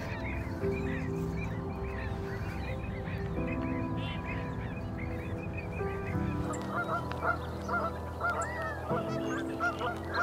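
Canada geese honk continuously, many overlapping calls from a flock, loud and steady throughout with no pauses.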